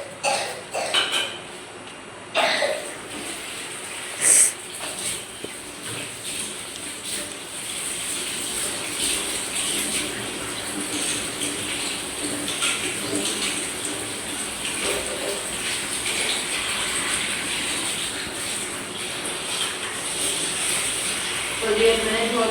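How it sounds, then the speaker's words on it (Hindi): Tap water runs steadily while taro root (arbi) and green chillies are rinsed, with dishes and utensils clinking now and then, continuous and fairly close throughout. "तो ये मैंने धो ली है अरबी की सब्जी और ये हरी मिर्च भी धो लेती हूँ मैं।"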